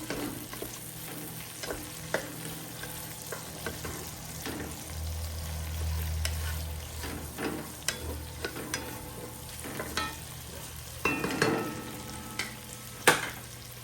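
Onions, pimentos and hot peppers fry in a pan outdoors, a continuous close sizzle punctuated by spoon scrapes and taps against the pan, with no talking.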